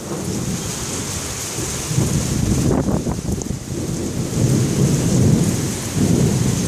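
Steady heavy rain hisses throughout, with a low rumble of thunder rolling underneath, loud and close.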